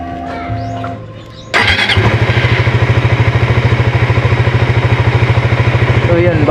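Suzuki GSX-R 150 motorcycle engine, freshly fitted with a new fuel pump, starts after a short moment of quiet and settles into a loud, steady, evenly pulsing idle close by.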